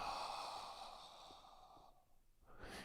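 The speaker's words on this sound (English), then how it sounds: "Nice snoring sound." A person exhales loudly with a rough, snoring-like breath during a yoga class breathing exercise, one long drawn-out breath fading near the end.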